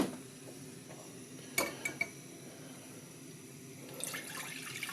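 Faint trickle of room-temperature water into a metal pot for a 3500W camping gas stove, with a couple of sharp clanks of cookware and a brief splashing pour near the end; no speech.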